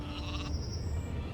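Sheep bleating in the video game Gothic 2, a short faint bleat over a low game ambience with no voices.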